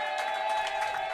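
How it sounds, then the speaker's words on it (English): Crowd applause at a T10 cricket match, a steady wash of clapping from spectators after a batsman's innings, filling the short moment without pause. "we have heard the applause"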